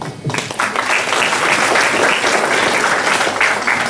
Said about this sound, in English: I think you should be truly applauded.